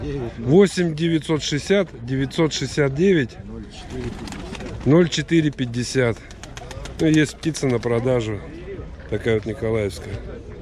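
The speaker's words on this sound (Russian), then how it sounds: "Ну вот николаевские голуби." Nikolaev pigeons cooing at a pigeon fair, repeated throaty coos in rapid bursts close by, mixed with background crowd chatter.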